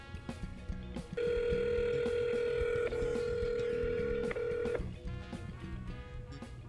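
A telephone dials out to place a call, with a steady tone holding for several seconds and short touch-tone beeps cutting in at its end, over a quiet background.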